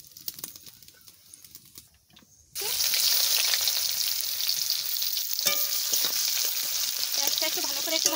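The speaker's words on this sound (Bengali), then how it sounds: "জিরে দিয়ে দিচ্ছি" Cumin seeds hit hot oil on a stove while making mutton curry: after a quiet start, a loud, close sizzle suddenly bursts in and stays steady, crackling with small pops.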